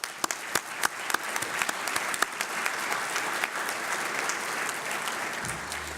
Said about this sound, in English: please give a round of applause to our sponsors